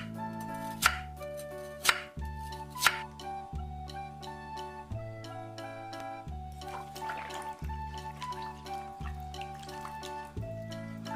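A knife cuts lotus root into 0.5 cm slices on a board, a few sharp chops standing out over a soft, even pattern of cuts, with a faint watery trickle underneath.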